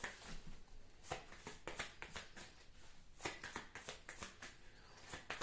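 Oracle cards shuffled for a card reading, giving repeated soft riffling and slapping bursts, close and fairly quiet, with no voice over them.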